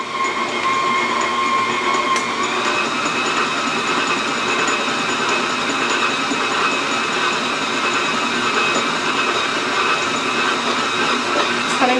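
An electric stand mixer whirs steadily on low speed while mixing rugelach dough, a constant close motor drone with a faint mechanical whine that holds evenly throughout without any voices.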